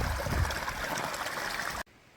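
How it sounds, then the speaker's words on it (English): Clean mountain spring water gushes steadily from a source on a snowy mountainside, a dense, close rushing splash that cuts off abruptly near the end. "Beautiful clean water. Look at it gushing."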